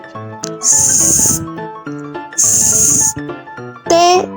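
A voice imitates a snake by hissing a long S sound, repeated in bursts between spoken words, close and loud.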